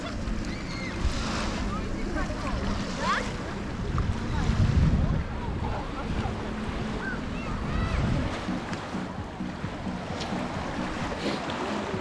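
Small waves wash and lap against the sandy shore of a very large lake in Kyrgyzstan, a steady close surge with wind buffeting the microphone throughout.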